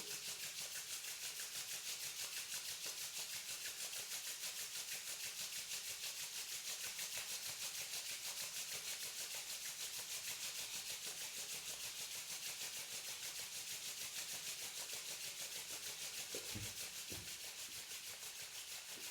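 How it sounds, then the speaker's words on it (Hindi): Hands rub together continuously during a Reiki meditation, a steady soft friction hiss held evenly for the whole stretch with no pauses, ending in a couple of brief low knocks. "तीस सेकंड तक हाथों को कंटिन्यू रब करते रहिए।"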